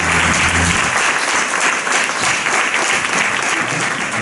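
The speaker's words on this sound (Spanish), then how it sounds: "un fuerte aplauso para ella" An audience at a poetry competition semifinal breaks into loud, sustained applause, a dense wash of clapping from many hands that fills the room, with a faint voice at the very start.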